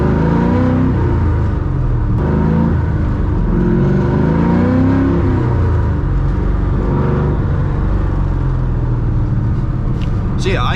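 An LS V8-swapped BMW E36 M3 accelerates with a loud, steady engine drone that rises in pitch through repeated climbs, heard from inside the car, with a brief higher whine near the end.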